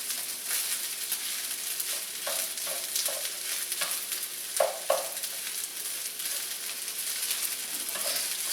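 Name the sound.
stir-frying fried rice with pork and egg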